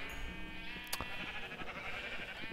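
Minecraft sheep bleat in a survival game, a faint, brief bleat heard once under steady game background noise and hum, with no talking.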